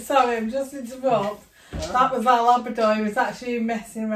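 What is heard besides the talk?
No everyday noises stand out.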